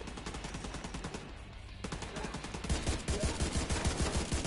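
Rapid gunfire from a shooter game, The Division 2, with a sniper rifle among the shots, crackling in dense repeated bursts that grow louder and heavier after a brief lull.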